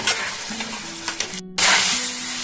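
Spiced fish curry masala with rohu and potato sizzles steadily in a hot pan while being stirred, with a constant close frying hiss and scraping of the spoon, and no voices.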